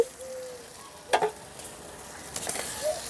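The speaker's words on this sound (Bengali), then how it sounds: "এই পর্যায়ে আমি দিয়ে দেবো টমেটো কুচি।" Chopped tomato tipped into a pan of fried-down spice paste with oil separating at the edges, giving a low steady sizzle with a few sharp clatters and stirring bursts, heard alone at moderate level.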